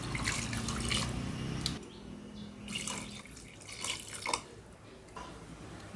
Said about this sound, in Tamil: இது வேகிற அளவுக்கு 2 டம்ளர் தண்ணி ஊற்றிப்போம்.